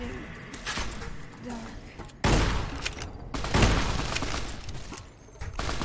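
Gunfire in the video game Fallout New Vegas, a dense burst of shots and impacts layered over steady game ambience, loud bursts around the middle of the stretch.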